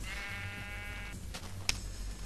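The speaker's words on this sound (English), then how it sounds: "Here's one right now. A light gray sheep." Light gray sheep in Minecraft bleating in a wavering, harmonic call over a low background hum, followed by a brief sharp click and then quieter ambience.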